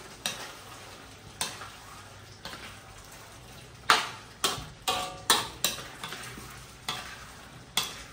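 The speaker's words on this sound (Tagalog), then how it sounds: "Haluin ulit." A spoon stirs food in a hot pan on a home stove, giving a run of about a dozen scraping strokes over a low frying sizzle. The strokes come loud and close, uneven and quicker toward the end.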